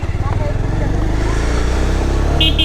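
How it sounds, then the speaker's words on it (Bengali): A motorcycle engine rumbles steadily as the bike is ridden up onto an embankment on a ride from Dhaka to Bhola, with someone talking over it throughout. "তাহলে বাইকটা উঠাই দিই উপরে"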